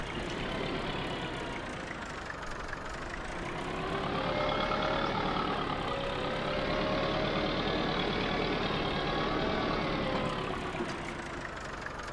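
A Sonalika 60Di tractor from Farming Simulator 22 drags a plough, its engine a loud, steady low drone that swells gently midway and settles again, running alone without talk.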